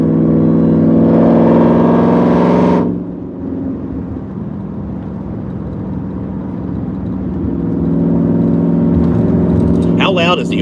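A car engine revs loudly and then drops to a steady driving drone, building again toward the end, heard from inside while driving away from a gas station, with a brief voice near the close.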